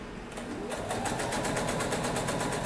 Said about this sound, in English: So I'm going to sew this.